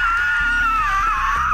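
A very high, sustained screech of excitement from a single voice, loud and close, its pitch wavering up and down for over a second with no other sound around it.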